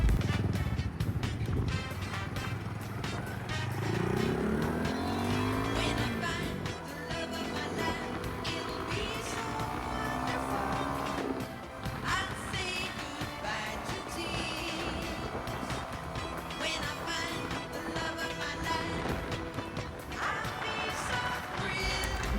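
A Honda Dax 125 motorcycle fitted with a 3D-printed intake funnel on a test ride, its engine rising and falling through the gears under steady wind rush.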